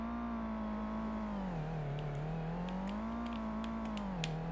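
Synthesized car engine in a Godot video game, a continuous tonal drone whose pitch rises and falls as the revs swing during drifting and regaining grip, steady and alone without talk.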